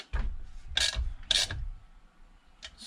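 A ratchet snugs a muffler bolt on a Poulan 2450 chainsaw in a few quick, rasping bursts, three close clicking strokes followed by a faint final one in an otherwise quiet workshop.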